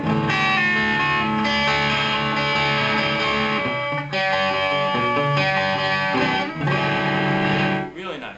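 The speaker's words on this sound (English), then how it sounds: "it's just actually the guitar with some distortion" A distorted electric guitar plays sustained, gritty chords, loud and close, with brief breaks between phrases.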